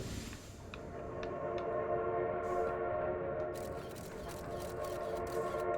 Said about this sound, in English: Oh, there's the whistle.